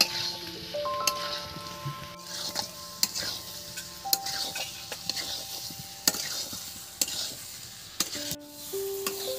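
Potatoes coated in spices are stirred in a pan with a metal spoon, giving regular scraping knocks over a low sizzle, close and steady, with no talk.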